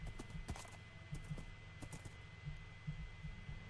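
A horse's hooves in the video game Minecraft, ridden through jungle terrain: faint, soft, rhythmic thudding steps repeating at a steady trotting pace under a low hum.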